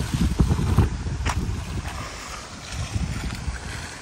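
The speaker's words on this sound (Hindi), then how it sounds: "आज यार विंड बहुत है" Strong wind buffets the microphone beside an outdoor pond, giving a steady low rumble with gusty swells throughout and a few brief clicks, and no talking.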